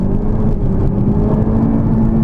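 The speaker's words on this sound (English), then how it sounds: "basically in third gear, at accelerating from 70 or 80 kilometers an hour, so it is fighting for grip" A 2018 Honda Civic Type R accelerating hard in third gear from 70–80 km/h gives a loud, steady in-cabin engine drone with a low rumble, continuous throughout.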